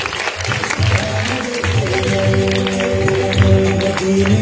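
Audience at a grand charity event cheers children on with steady clapping and crowd noise, loud and continuous, while music with sustained tones and a voice run underneath.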